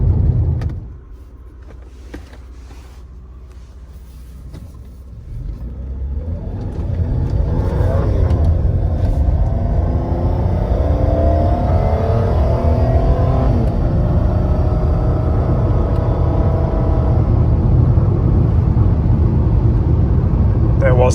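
A red Mercedes W124 on the road near the end of its engine run-in, the engine quiet at first and then rising into a loud, steady drone as the car accelerates and cruises, with gear-shift sweeps audible.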